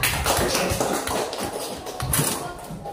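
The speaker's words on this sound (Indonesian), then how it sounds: "Beri aplaus untuk kelompok 4." A classroom group breaks into applause to praise another group of students, a dense, steady patter of many hands clapping together for about three seconds, with voices mixed in.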